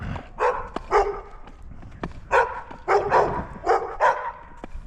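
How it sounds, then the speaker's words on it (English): Several dogs bark in repeated sharp bursts, fairly close and loud, in a snowy residential street, with irregular pauses between the barks. "Barking dogs."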